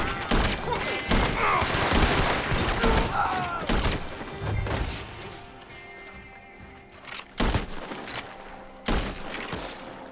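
Gunfire in Red Dead Redemption 2 Online: a fusillade of sharp shots cracks out repeatedly in the first half, followed by a few isolated loud bangs later, with horse hoof clops mixed in and a voice talking faintly underneath.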